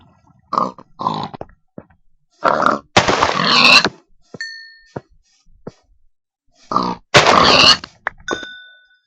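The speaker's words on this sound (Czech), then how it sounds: "Ještě jedno prasátko." Minecraft pigs grunting in short snorty bursts, with sharp chiming dings of item pickups or level-ups ringing out between them in a quiet game setting.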